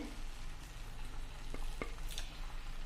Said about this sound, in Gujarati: મીડિયમ થી હાઈ ફ્લેમ ઉપર આપણે કન્ટિન્યુ હલાવતા રહ્યા છીએ